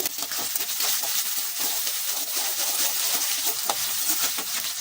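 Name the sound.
onions and curry leaves frying and being stirred for prawn fry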